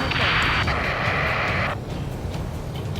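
An incoming rocket strikes in the flight combat game Ace Combat 7, a loud whooshing roar that cuts off abruptly into a low rumbling blast, with radio voices under it.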